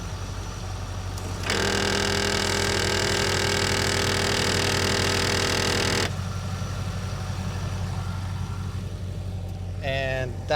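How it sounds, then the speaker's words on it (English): A 2003 Corvette Z06 headlight motor with a stripped gear runs for about four and a half seconds as a steady, loud, whining buzz, then stops, followed by a brief rising whir. "And that is what's wrong with the headlight. I believe the gear in this motor is stripped"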